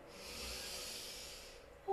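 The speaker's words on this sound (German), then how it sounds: "Wir atmen gemeinsam ein" Soft, airy breathing in during a yoga exercise for shoulder and neck relaxation, one long, faint, hissing inhale lasting about a second and a half before it fades.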